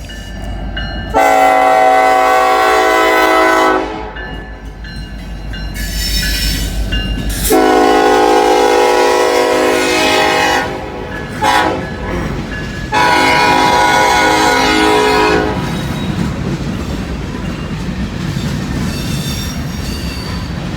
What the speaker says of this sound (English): Looks like a grain train.